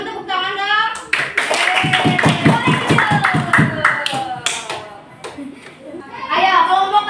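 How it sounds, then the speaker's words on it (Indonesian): A group of children in a primary school classroom clap their hands together, a run of evenly spaced, fairly loud claps amid excited young voices and chatter that continue before and after. "Ih, teman-teman tepuk tangan dong."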